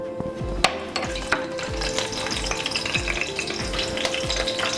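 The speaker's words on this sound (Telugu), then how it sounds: "కరివేపాకు ఫ్రై చేసుకుందాం మీడియం ఫ్లేమ్లో పెట్టుకుని." Green chillies, dried red chillies and curry leaves fry in about two spoons of oil over a medium flame for poha chivda, giving a steady sizzle. Close, regular stirring scrapes cut through the sizzle roughly twice a second.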